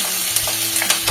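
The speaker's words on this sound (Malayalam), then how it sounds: "എണ്ണ ചൂടായി കഴിഞ്ഞ് കഴിയുമ്പോൾ നമ്മൾ അരിഞ്ഞു വെച്ചിരിക്കുന്ന ഇഞ്ചി," Chopped ginger sizzles in hot oil for a fish cutlet, a short, bright, continuous crackle close to the pan with small pops.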